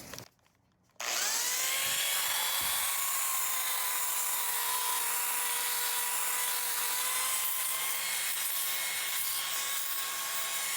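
Angle grinder removing rust and rot from the metal body of a 1959 Vauxhall Victor: after a short quiet moment it spins up to a loud, close, sustained high-pitched whine and grinding rasp that holds steady to the end.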